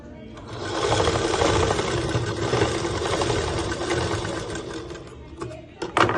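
Sewing machine running steadily while stitching the body seam of a school skirt, a continuous close whirring that stops briefly near the end, with a few light clicks.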